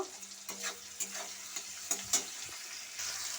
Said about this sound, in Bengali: টমেটো কুচিটাকে ভালো করে আমি নেড়ে নেব